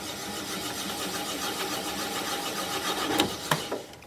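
A wood lathe turns a live-edge hawthorn bowl, giving a steady, moderate motor hum with light rhythmic whirring that ends in a few sharp knocks and scrapes near the end.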